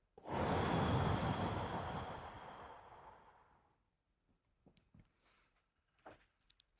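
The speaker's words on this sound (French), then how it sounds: "Une grande respiration." One long, loud exhaled breath, like a deep sigh, fades out over several seconds, then small quiet breaths and clicks follow.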